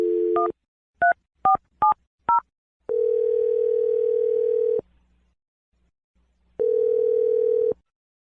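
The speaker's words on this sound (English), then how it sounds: "Let's dial the phone number right now." Touch-tone keypad beeps as a phone number is dialed, a short run of distinct DTMF tones, then a steady ringback tone sounding twice with a pause between, clear and close with no talking.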